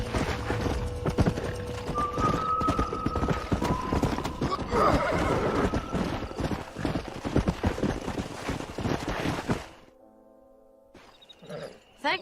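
Horses gallop and neigh in the Red Dead Redemption video game, rapid hoofbeats pounding loudly under a sharp whinny, then the clatter cuts off abruptly into near quiet before a brief final sound.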